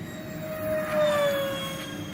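A Dynam Turbojet 550 model Cessna Citation II makes a low, full-speed pass, its steady high-pitched whine swelling slightly as it nears and then easing off, over constant outdoor background noise.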